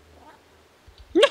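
A cat's short meow from the video game Stray, a single loud cry that ends the clip after a quiet stretch of low rumble.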